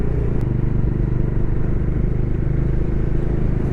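A motorcycle engine rumbles steadily and loudly at low speed while riding through a market in Kargil, a continuous close drone with faint clatter and no break.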